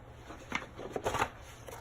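Chalk stencil peeled back off a fuzzy towel, giving soft papery rustles and a few brief crackling pulls, close and quiet with no talk.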